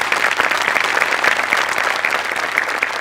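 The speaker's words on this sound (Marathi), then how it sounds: "गणेश सरांसाठी एकदा जोरदार टाळ्या होऊन जाऊ देत" A live studio audience at a Marathi comedy show bursts into loud, sustained applause, dense clapping close and steady for the whole stretch.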